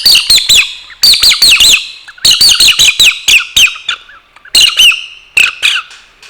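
Homemade sound-effect device imitating a myna bird, producing loud, close bursts of sharp squawks and chirping whistles in clustered groups separated by short pauses.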